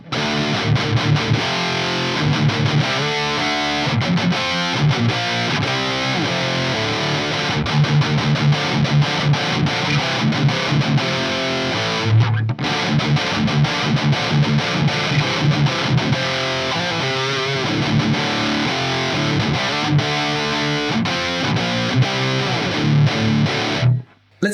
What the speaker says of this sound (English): I just prefer the gain boost out and the gain pretty much maxed on the lead channel with the front end boost